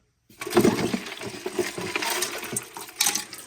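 Ice water sloshing inside a YETI Roadie 15 cooler, a close, continuous splashing and rattling of loose ice that starts abruptly and carries on with a sharper clatter near the end.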